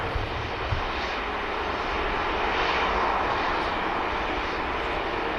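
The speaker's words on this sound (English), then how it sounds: "Jet 2 just touching down in the .com scheme" A Jet2 airliner landing at Manchester Airport gives a sustained, loud engine roar with a broad whooshing rush that swells slightly midway, heard alone without talk.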